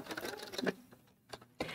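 Sewing machine stitching across linen, a faint rapid rattling run of needle strokes that pauses briefly before starting up again, with no talking.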